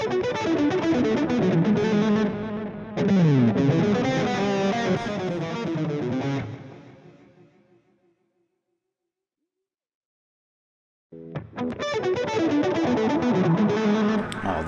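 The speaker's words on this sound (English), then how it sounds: "Let's listen to a couple more delays." A Blue Cat Audio Axiom plug-in delay with a wah-filtered tail gives a loud, distorted, swirling sustained tone that fades into a long decaying tail, then silence before the effected sound returns.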